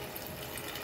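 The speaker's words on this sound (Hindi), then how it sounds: "डाल लेते हैं पानी" Water poured into banana bun batter in a pot, a steady continuous splash and trickle of liquid filling the vessel, close and moderately quiet, with no talking.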